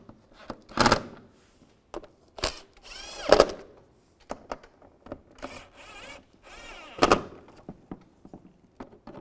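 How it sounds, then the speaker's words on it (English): A power drill tightens screws on a fog light of a 2015-2020 Cadillac Escalade, with several short whirring bursts separated by quiet gaps and small handling clicks. "Take all the screws, get those all started and tighten them down."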